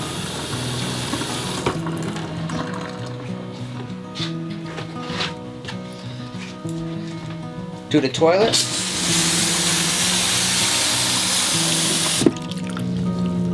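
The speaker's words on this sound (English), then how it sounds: "At this point, you want to run all through your faucets, hot and cold." Water runs from the faucets of a de-winterized RV, a steady rushing hiss that grows louder and fuller partway through, with someone talking over it and a few clicks and knocks.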